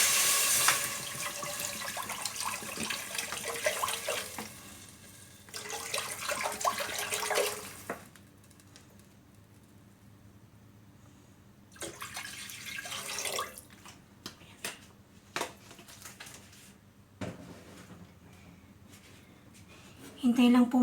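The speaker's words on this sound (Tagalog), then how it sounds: "Ngayon po, lalagyan po natin siya ng tubig." Water poured into a pan of frying pancit bihon, a loud splashing rush in two bursts followed by quieter stretches and a few clatters, with no one speaking.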